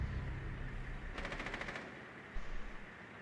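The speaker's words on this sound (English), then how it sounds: "A gunshot right beside me in this room." Video game gunfire in a shooter: a rapid automatic burst of about a dozen evenly spaced shots in the middle, followed by a couple of quieter single pops, all fairly faint and distant-sounding over low background noise.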